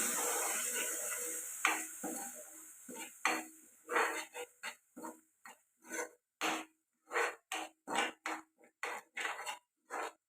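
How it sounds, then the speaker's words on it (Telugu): Egg curry masala with yogurt being stirred in a pan: a steady run of short, regular scraping strokes with brief pauses between them. The first few seconds have a soft sizzle, and no one speaks. "బాగా కలిసేలాగా కలుపుకుందాం"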